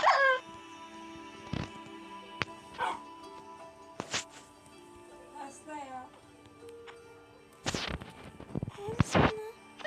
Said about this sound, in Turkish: Arkadaşlar köpek bulundu